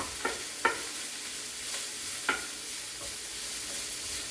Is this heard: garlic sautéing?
yes